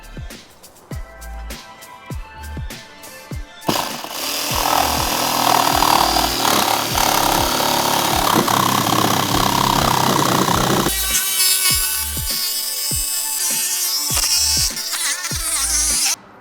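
A saw cuts a hole through an RV roof on a Winnebago Revel for a Dometic RTX 2000 12V air conditioner; a loud continuous rasping cut runs through the middle after a stretch of separate knocks and taps, and more tapping follows.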